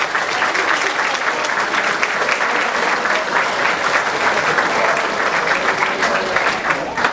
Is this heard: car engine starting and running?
no